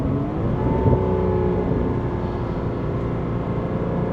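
A Porsche with a PDK gearbox downshifting from fourth into third and then second, the engine giving a loud close droning roar with rising rev blips over a few seconds, with no talking.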